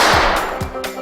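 Loud, close gunfire marks the start of a mock knife-versus-pistol duel, with three sharp reports in quick succession.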